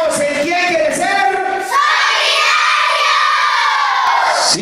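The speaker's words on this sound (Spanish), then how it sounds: "Un aplauso fuerte para los concursantes." A studio audience cheers loudly for game-show contestants, high excited voices and shouting building into a sustained roar after a spoken line, with scattered claps mixed into the crowd noise.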